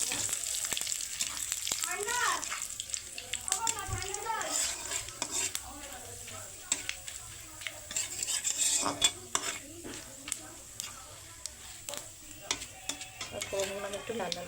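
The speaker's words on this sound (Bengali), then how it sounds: "এবার আমি এখানে দিচ্ছি গোটা গরম মশলা, অল্প পরিমাণে জিরে, গোটা জিরে, তেজপাতা, শুকনো লঙ্কা আর সামান্য পরিমাণে চিনি।" Whole garam masala, cumin seeds, bay leaf, dried red chillies and a little sugar tossed into hot oil for a red chicken curry, crackling and sizzling with metal utensil clinks and scraping throughout, with a few brief human voice sounds mixed in.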